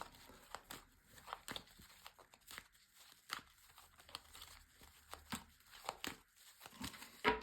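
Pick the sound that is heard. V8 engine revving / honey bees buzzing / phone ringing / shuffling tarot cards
shuffling tarot cards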